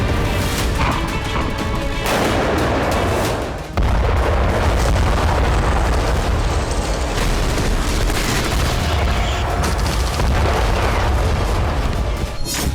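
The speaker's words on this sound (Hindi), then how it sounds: "अवदीपका में रूसी फौज ने ग्रैड रॉकेट लॉन्चर से भीषण हमला किया।" A Grad rocket launcher attack by Russian forces in Avdiivka, a loud, dense, continuous rumble of booms and blasts with repeated heavy impacts throughout.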